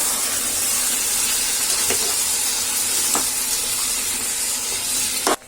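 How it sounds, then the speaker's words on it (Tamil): Tomato paste sautéing in a pan for a moong bean kulambu, a steady close sizzle and hiss running throughout, with a few soft scrapes of stirring and a sharp clink near the end. "தக்காளி வதங்கிட்டு இருக்கு."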